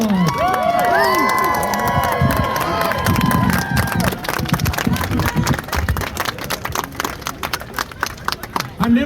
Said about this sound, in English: Let's give Rod a round of applause